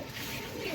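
Pigeons cooing at a busy pigeon market in Ruhitpur, a short soft burst of low throaty coos against a steady crowded background.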